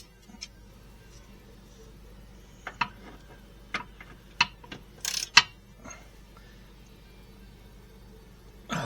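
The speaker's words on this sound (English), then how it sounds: "now that I have it loose, I will use my ratchet" A ratchet wrench works on a tight control arm bolt on a 2013 Subaru Outback, giving a few scattered, irregular metallic clicks and ticks against a quiet garage background.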